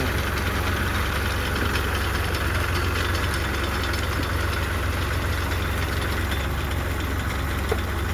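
An Eicher tractor engine runs during a potato harvest, a loud, close, continuous throbbing drone with steady low rumble and no pauses.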